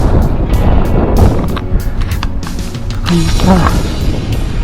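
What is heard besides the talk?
wind blowing on a hike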